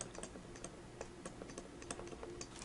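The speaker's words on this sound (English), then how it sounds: "And so I will just type that in" Fingers tap numbers into a calculator, a quiet series of light, irregular clicks and taps close by, with no talking.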